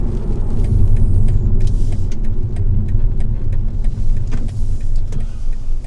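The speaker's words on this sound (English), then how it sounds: "Oncoming traffic," Oncoming road traffic passing a car fitted with a Viofo A129 Pro Duo 4K dash camera, a loud continuous rumble and road roar with the whoosh of vehicles going by, no voices.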